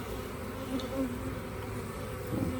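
Honey bees buzz in a steady, low drone, a dense hum of many insects close by with no talking.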